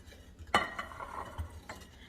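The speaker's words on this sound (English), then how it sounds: "Kind of bury it and give it a mix." Sugar and dry active yeast stirred together in a bowl for no-knead bread, giving a sharp utensil scrape followed by soft scraping and light clinks at close range, with no talking.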